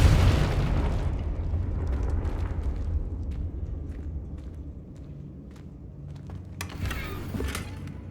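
A Confringo spell explosion in Hogwarts Legacy opens with a loud, deep boom that rumbles and slowly fades, followed by quieter crackles and a brief burst of debris near the end.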